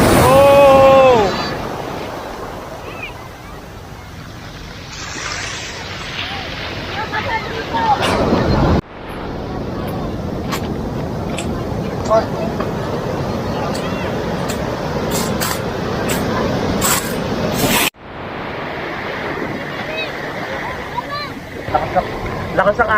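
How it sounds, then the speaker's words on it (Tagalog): Strong sea waves slap and surge around a small boat off Infanta, Quezon, with constant rushing water, heavy wind buffeting on the microphone and people talking and exclaiming throughout. "Lakas ang alon, guys."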